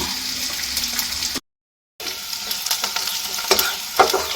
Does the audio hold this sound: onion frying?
yes